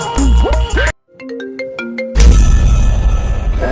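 A phone ringtone plays a short melodic sequence of clear electronic tones, loud and close, between bursts of other noise.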